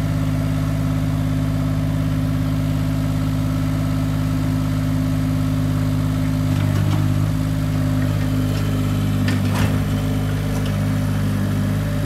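A JCB micro digger's engine runs steadily with a low, heavy drone while it shifts a 20-foot shipping container, punctuated by a few metallic knocks and clanks.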